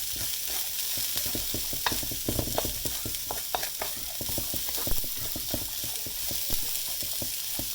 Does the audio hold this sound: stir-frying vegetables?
yes